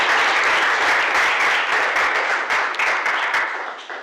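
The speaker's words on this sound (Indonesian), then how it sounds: "Mungkin kita bisa aplaus, tepuk tangan buat temannya yang menjawab." Students in a classroom applauding their classmates, a close, loud burst of dense clapping that holds steady and then gradually thins out over several seconds.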